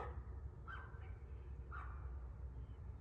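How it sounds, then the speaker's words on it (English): A neighbour's dog gives two faint, distant barks or yips about a second apart, heard outdoors against a low background rumble. "that's my neighbor's dog saying good morning"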